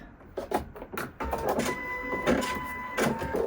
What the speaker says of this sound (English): You gotta love the automatic needle threader